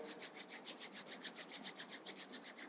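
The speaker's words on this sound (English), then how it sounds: "Start rubbing your palms together." Palms rub briskly together in a steady back-and-forth rhythm, a soft, close swishing friction sound repeating about six times a second, quiet with no voices.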